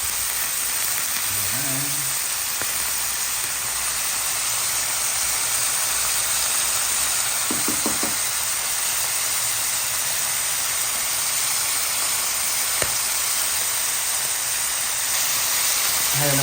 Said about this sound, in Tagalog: Ipiprito ko or igisa ko lamang po ang ating chicken liver.